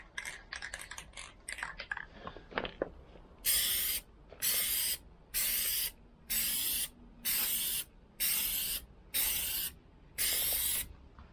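Plasti Dip aerosol sprayed onto a car badge in eight even, loud bursts of about half a second each, separated by short pauses, after a few seconds of faint handling clatter.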